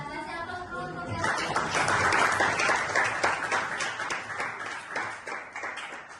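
Classroom applause from students at a senior high school teaching practice session, a dense burst of clapping that swells quickly and then thins out over several seconds, with a voice faintly underneath.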